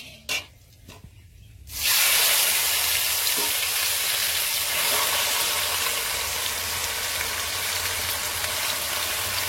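Chicken pieces drop into hot oil with whole cumin for a village-style chicken biryani, erupting after a quiet moment and a clink into a loud, steady close sizzle and hiss that carries on unbroken.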